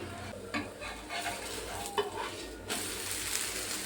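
A cucumber paratha cooking on high flame with a steady hiss of sizzling oil and a few scraping strokes in the pan, close and continuous without talk.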